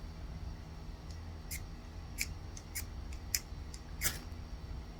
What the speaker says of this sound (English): It's a tool sharpener.